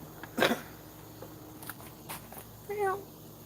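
A cat gives one short, close meow near the end, following a brief louder burst of household noise, while a quiet indoor room tone sits underneath.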